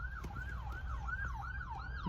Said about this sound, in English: Can't be a good sign if paramedics, ambulance are far behind.